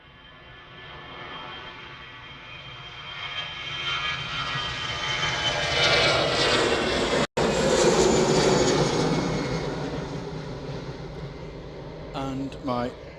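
EasyJet airliner arriving at Manchester Airport at sunset, its jet roar swelling steadily to a loud broad rush overhead, then slowly fading, with a brief voice near the end.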